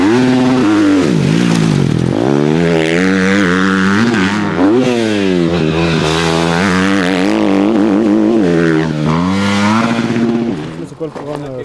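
A motorcycle engine, restarted after being switched off, revs and holds a strong harmonic drone with rising and falling pitch, loud and close throughout, then cuts back near the end.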